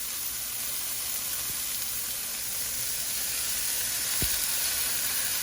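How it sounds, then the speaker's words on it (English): Tomatoes and shrimp sizzle steadily in olive oil in a pan, a continuous bright hiss with one brief low knock near the end; no voices. "I'm adding my tomatoes and shrimp in an even layer."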